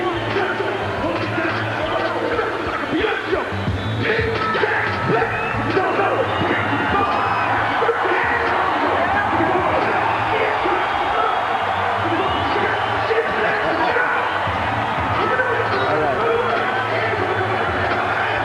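A boxing arena crowd roars steadily as Roy Jones Jr arrives at ringside for his fight with Richard Hall, a dense wall of cheering, whoops and chatter that stays loud and unbroken throughout, with a low hum underneath.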